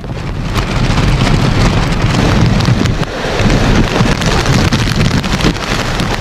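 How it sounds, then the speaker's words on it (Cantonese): Strong gusty wind roars steadily at the Hung Hom pier in Hong Kong during a storm, with rumbling waves breaking against the shore; loud, continuous and broadband, with no speech. "海浪拍岸，亦都不時有強陣風吹過。"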